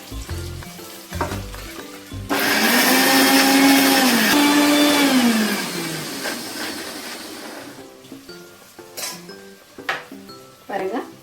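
A mixer grinder whirs loudly for about three seconds, grinding ingredients for a mushroom biryani with a rising and falling motor whine, framed by clattering kitchen handling and a spoken voice before and after.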